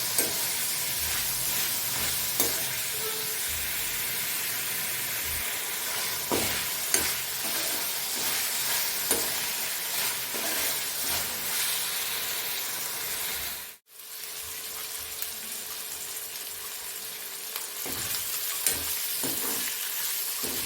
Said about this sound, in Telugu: కొంచెం అల్లం వెల్లిగడ్డ పేస్ట్ వేసుకొని కొంచెం కలుపుకోవాలి